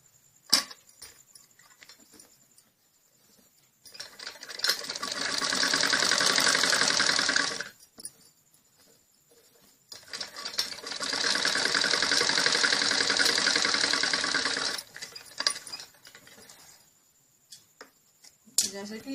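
A sewing machine stitches a salwar seam with the edge folded inward, running in two steady bursts of about four and five seconds separated by quiet handling, close and loud.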